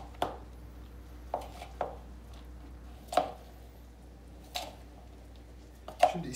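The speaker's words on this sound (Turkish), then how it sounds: "Ve sucuklarımı da ekleyip hepsini bir güzel karıştırıyor olacağım." A spoon stirs a potato mixture with kasar cheese and sliced sucuk sausage, giving sparse soft squishes and light knocks against the bowl at irregular gaps in a quiet room.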